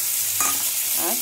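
Ginger and green chili go into hot oil in a home kitchen pan, a brief soft sizzle with a light stirring scrape, close and fairly quiet.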